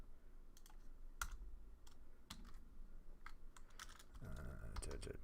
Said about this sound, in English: I know me typing is just so exciting